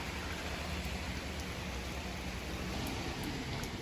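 Rain falling outdoors on a rest day in the White Mountains along the Appalachian Trail, a faint, even hiss of steady drops with occasional brief ticks and no voices.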